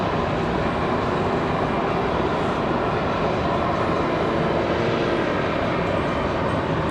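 An Aer Lingus Airbus A321XLR at Raleigh-Durham airport produces a steady, dense jet engine roar, loud and unbroken for several seconds with no clear change in pitch.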